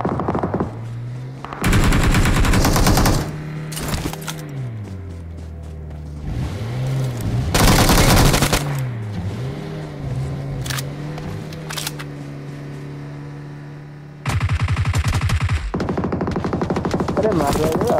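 Gunfire in the mobile battle royale game BGMI: loud bursts of automatic fire and sharp shots repeat through the scene, separated by quieter stretches with game ambience and some talk underneath.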